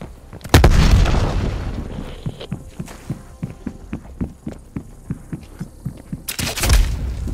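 A frag grenade detonates in a video game: two heavy, loud booms, one near the start and one near the end, with a steady rhythmic thumping pulse between them.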